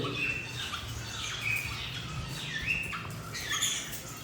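A Golden Mantle Rosella breeder male parrot squawks repeatedly, giving a run of sharp, fairly close calls at irregular intervals over a low background murmur.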